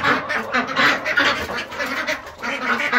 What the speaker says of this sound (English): If you can hear me over the ducks.